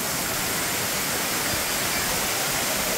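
Steady, dense rushing roar of a waterfall in the Konkan region during monsoon, continuous broadband water noise close by with no voices.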